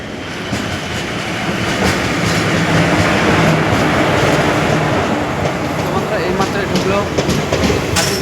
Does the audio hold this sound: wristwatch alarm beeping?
no